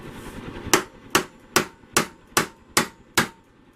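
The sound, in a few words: hammer tapping ball bearing into metal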